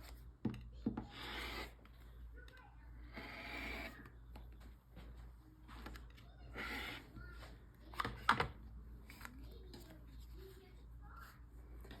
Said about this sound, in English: you're just going to trim the excess away